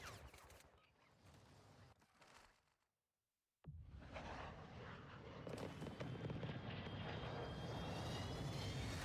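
An airplane flies in a video game, with a steady, broad engine roar. It starts quieter, drops out briefly to silence, then returns louder and holds a continuous drone.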